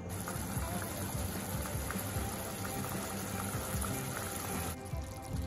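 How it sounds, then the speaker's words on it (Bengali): Water pours steadily into a pan of potato curry (alu dom) with a continuous gushing, bubbling rush that stops abruptly near the end, close and fairly loud. "এরকম অবস্থায় আমি দিয়ে দেব জল।"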